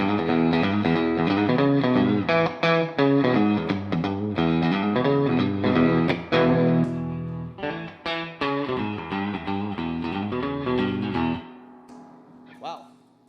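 Twangy clean Telecaster-style electric guitar through a Jet City amp with a Retro 30 speaker and added reverb, playing close and loud with busy picked chords and notes, then ringing out into a reverb tail.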